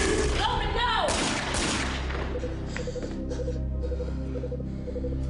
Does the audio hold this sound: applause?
no